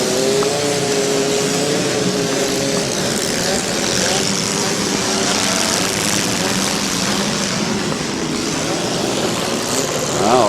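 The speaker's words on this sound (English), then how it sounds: "a lot of cars still running out here" Several demolition derby cars idle and rev together at a county fair derby, a loud, continuous engine roar that holds steady throughout with no talk over it.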